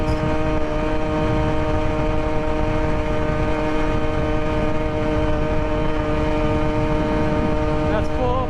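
An ONYX RCR 63cc two-stroke gas engine on a hybrid bicycle runs steadily at full throttle, a loud, constant buzzing drone with strong harmonic whine that holds nearly unchanged throughout, close to the rider with wind noise underneath.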